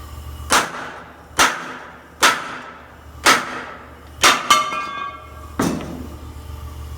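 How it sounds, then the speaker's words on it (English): Hammer whacks knocking a bracket off a 1981–87 one-ton 4WD truck: six loud metallic strikes spaced about a second apart, each ringing briefly, the last two close together, with no talking. "Sometimes you may have to take a few good whacks at it."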